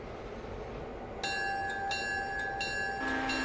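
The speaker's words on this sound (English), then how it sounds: "And that bell is loud." A train runs in the Railroader video game while the locomotive bell rings: a steady rumble of movement lies under a loud, repeated metallic bell, which starts partway through and keeps a regular rhythm.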